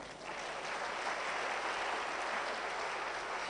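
An audience at a university public debate on AI and emerging technologies breaks into sustained applause, a dense, even wash of clapping that holds steady throughout with no speech over it.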